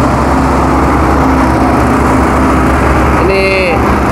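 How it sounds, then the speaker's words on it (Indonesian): A septic tank suction truck pumps out water on a street in Jeddah, its engine a loud, continuous droning roar that fills the whole stretch, with a brief higher whine rising near the end. "Ini lagi nyedot air septic tank ya. Sorry kalau berisik."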